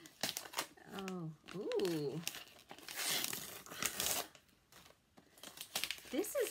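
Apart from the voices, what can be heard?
tearing open gift wrapping paper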